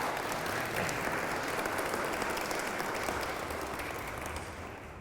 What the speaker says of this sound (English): You want to clap? Okay, let's clap.